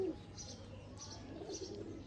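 Teddy pigeons cooing softly in a loft, a few faint, low burbling coos with light chirps in quiet surroundings.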